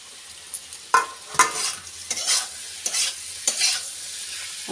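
Chopped boiled eggs are tossed into a pan with ginger-garlic paste for egg keema, a close, steady sizzle broken by several sharp spatula stirs and scrapes at irregular intervals.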